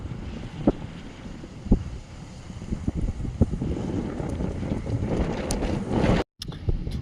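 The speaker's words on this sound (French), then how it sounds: "Alors il y a du vent." Gusty wind buffets the microphone beside a Mediterranean marina in Morocco, rumbling low and steady with a few brief thumps, and it cuts out abruptly near the end.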